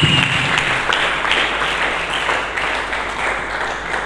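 Applause from a church congregation fills the space, a thick wash of many hands clapping at once, loud at the start and holding steady before easing slightly toward the end.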